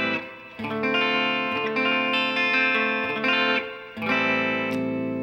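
Bright, twangy chords on a Mexican-made Fender Stratocaster electric guitar's bridge pickup ring out in a steady strummed pattern, with a brief pause before the strumming resumes, loud and close.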